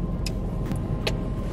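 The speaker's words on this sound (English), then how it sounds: "I wonder if I can do that revving." A car engine runs steadily at a medium, fairly close level, with brief sharp bursts rising over the drone and no clear rev climb standing out.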